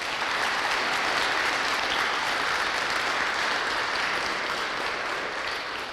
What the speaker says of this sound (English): Let's have another round of applause for all of our soloists.